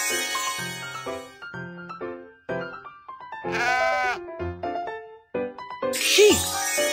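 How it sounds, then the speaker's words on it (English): Sheep bleats in a children's cartoon, a wavering bleat in the middle and another near the end, mixed with bright chimes and cheerful voices talking. "Sheep!"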